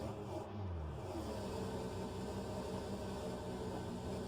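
Steady engine drone of an Alfa Romeo 155Ti touring car racing at Bathurst in a sim racing game, a continuous moderately loud hum with a slight rising pitch sweep early on.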